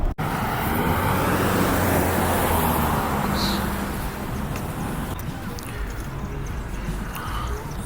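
Interior road noise from a car driving on a highway on a long trip home, a steady loud broadband rumble and whoosh of tires and engine that continues evenly throughout, with no clear talking.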